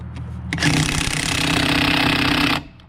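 A powerful impact wrench rated around 1200 foot-pounds hammers on a stuck bolt to tighten it, giving one loud, continuous rattling burst of about two seconds that stops abruptly.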